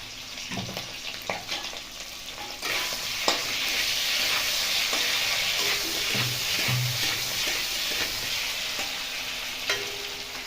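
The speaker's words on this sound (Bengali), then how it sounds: "অল্প একটু নুন আর অল্প একটু হলুদ দিয়ে আলুটা প্রথমে একটু লাল লাল করে ভেজে নেব।" Potatoes fry in a pan with a little salt and turmeric, a steady close sizzle with occasional stirring clatter, running alone without talk.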